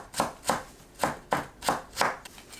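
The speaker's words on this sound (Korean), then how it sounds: "당근을 곱게 채 썰어줍니다." A knife julienning carrot on a cutting board, producing five or six crisp, evenly spaced chopping strikes close up with no talk.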